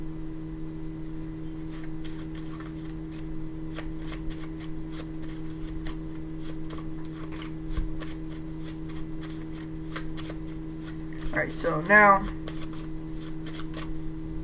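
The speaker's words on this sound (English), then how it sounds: "I'm gonna shuffle the deck. You gotta shuffle, you gotta make sure you shuffle it right." Cards riffle and flick in quick repeated bursts throughout, close up, with a brief spoken word near the end.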